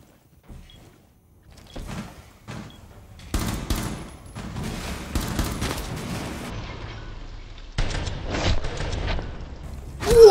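Gunfire in the tactical shooter Rainbow Six Siege: scattered single shots at first, then bursts of rapid automatic fire and a long loud volley, with clattering mechanical impacts, close and sharp.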